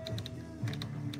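Keys strike on a typewriter, a few quick, light clacks in two small clusters, close and fairly quiet over a low background hum.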